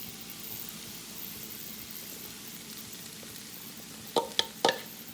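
Onions are added to frying potatoes in a pan, giving a faint, steady sizzle with a few sharp utensil clacks near the end.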